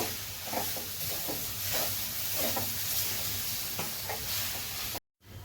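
Grated potato is stirred into a vegetable patty mixture in a hot pan, soft scraping strokes repeating over a steady low sizzle, close and quiet, with no talking.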